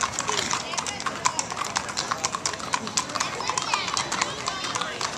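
Horses' hooves clip-clop on pavement in the Umatilla County Fair parade, a steady stream of sharp overlapping hoof strikes at moderate distance, with people talking throughout.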